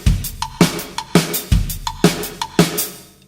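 Drum kit groove with a jam block, repeating a short two-beat phrase: punchy kick and snare hits interleaved with sharp, woody jam block clicks in a tight, steady loop, close and alone.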